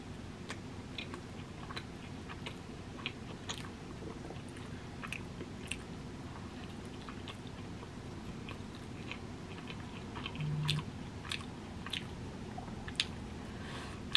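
Someone eats a Taco Bell beefy burrito up close, with soft wet chewing, squishing and occasional biting clicks repeating steadily at low volume.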